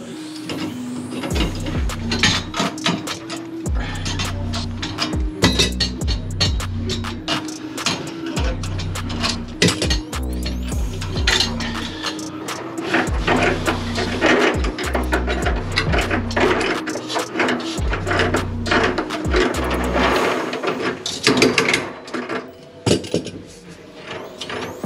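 Old plumbing pipework being ripped out from heating loops and valves during a renovation, with repeated metallic clanks, knocks and rattling scrapes coming in irregular bursts, loud and close, with little talk.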